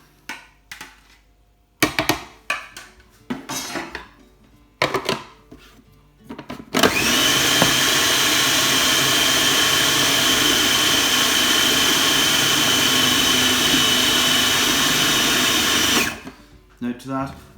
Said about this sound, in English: get our potatoes into the processor